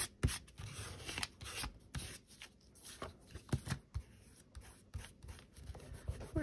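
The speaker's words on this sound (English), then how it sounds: "just gonna rub the glue." Glue being rubbed onto paper washi stickers for a junk journal, making soft, close papery rubs and rustles in an irregular rhythm with no talking.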